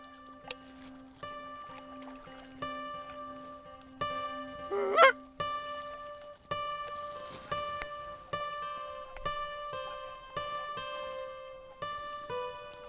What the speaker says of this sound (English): The geese briefly fly within range, but Aaron decides not to shoot.